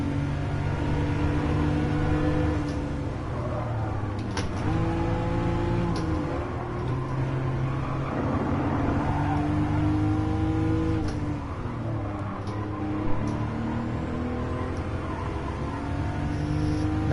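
A Porsche 911 Turbo in a racing game on the Nürburgring, its engine revving continuously and climbing through gears with repeated rising pitch sweeps, loud and steady throughout.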